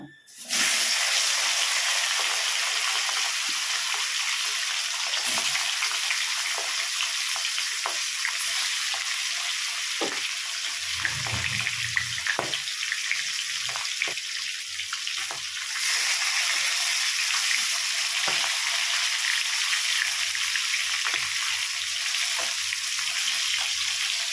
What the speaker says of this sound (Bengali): এবার ওই একই তেলের মধ্যে আমি কাটাগুলোকে ভেজে নেব।